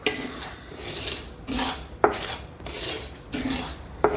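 Sesame seeds being dry-roasted and stirred in a pan, roasted alongside oats, peanuts and coconut for a sugar-free laddu: repeated scraping, rasping sweeps with a few sharp metallic clinks of spoon on pan, steady and close with no talk.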